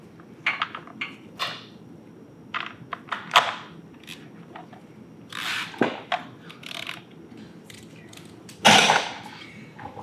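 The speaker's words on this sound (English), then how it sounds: "we're going to bolt the air cleaner in." Wrench clicks and metal taps ring out while an air cleaner is bolted onto the Screamin Eagle intake of a 2020 Harley-Davidson Road King Special, sharp irregular ticks and clunks scattered across a quiet workshop.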